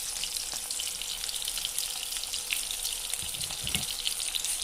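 Three bay leaves frying in hot oil, a steady hissing sizzle throughout, close up with a few faint knocks near the end.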